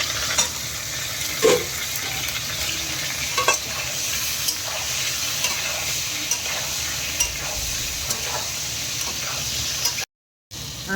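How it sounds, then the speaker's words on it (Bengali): Potatoes frying in hot oil with salt and turmeric, a steady close sizzle with occasional stirring scrapes and small bumps of the spatula, continuous throughout before a brief cut to silence near the end. "আলুটা দেবো, দিয়ে নুন হলুদ দিয়ে একটু লাল করে ভেজে নেবো"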